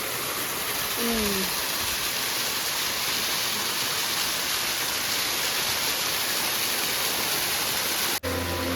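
A small waterfall in the Sahyadri hills sends a steady, dense rush of falling water, loud and close, with a brief voice near the start.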